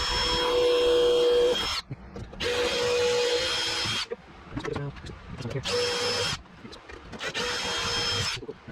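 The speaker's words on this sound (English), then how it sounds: "So we'll go ahead and drill out the rest of these guys." A power drill bores out rivets in an aluminum aircraft kit, a Zenith 750 Cruzer, in loud high-pitched whirring bursts of a second or two separated by short pauses and quieter handling noise.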